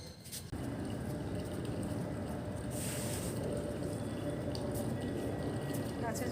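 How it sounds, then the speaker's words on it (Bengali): Water pours steadily while plants are being watered, a continuous, fairly quiet splashing stream after a brief start. "এবার গাছে একটু জল দিই।"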